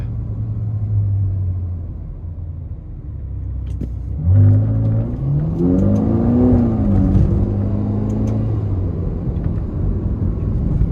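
A 2020 Ferrari Portofino accelerates while driving, its engine note rising in pitch with clear harmonic sweeps, loud and close, after a quieter stretch of low rumble.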